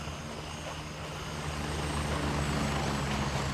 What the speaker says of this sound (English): The helicopter flying in, huh?